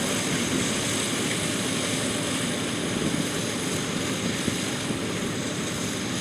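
A tractor spreads seed and fertilizer across open ground at the Worthington Diamond Mine, its engine giving a steady, loud broadband drone that holds without break throughout, no voices.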